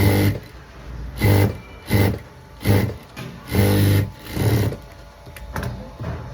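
A sewing machine stitching a blouse runs in short loud bursts, about seven evenly spaced runs with brief pauses between them, close and alone.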